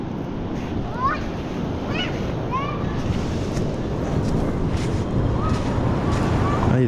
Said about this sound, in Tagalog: Ay, lalaki ng alon oh.